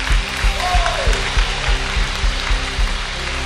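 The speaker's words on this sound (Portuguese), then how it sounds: "Aplaude ou não aplaude? É para Jesus." A church congregation claps steadily in a loud, continuous wash of applause, with a low rhythmic thumping beneath.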